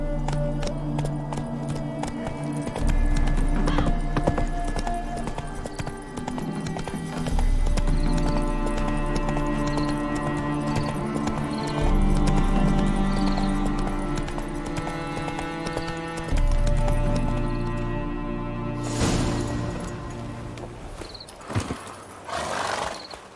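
Roach, the horse in The Witcher 3, gallops with steady rhythmic hoofbeats over a game music bed, with a brief snort or whinny near the end; hooves stay loud and close throughout, with no talk.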